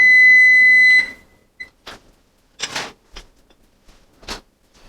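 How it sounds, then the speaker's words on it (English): A kitchen oven timer gives a loud, steady electronic beep for about a second as a tuna casserole finishes baking. Scattered clicks and clatter of the kitchen follow. "And there we are, the timer's singing our song."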